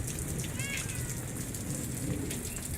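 Steady rain pours during a thunderstorm, a dense continuous hiss close by with no distinct thunder, and a brief cat-like chirp partway through.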